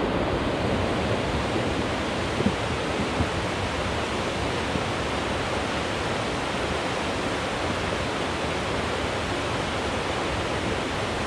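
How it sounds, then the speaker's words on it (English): A river raging after days of heavy storm rain gives a dense, steady roar of rushing water, close and loud, with a few faint knocks from big rocks tumbling and banging together beneath the torrent. "The knocking sound, those are big rocks being thrown around in the river, banging up against each other."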